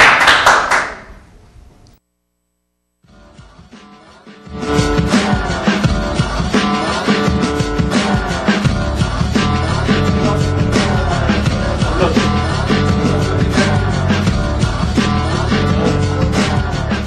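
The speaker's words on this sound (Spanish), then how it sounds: "Un aplauso, muchachos." An audience at a talk show gives a long, loud round of applause, dense clapping from many hands that continues steadily after a brief quiet gap.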